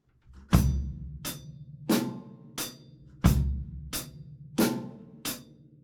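Beginner drum kit groove with bass drum, snare and hi-hat at a slightly quicker tempo: heavy kicks with snare backbeats, steady hat strokes in a repeating bar, close and alone.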